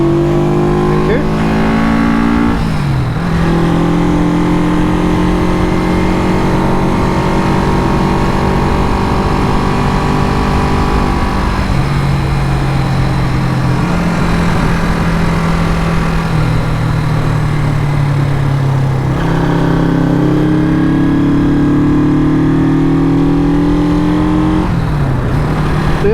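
A Honda super sport motorcycle engine runs and revs in rising and falling sweeps, loud and close, with a couple of sharp throttle blips, while people talk over it.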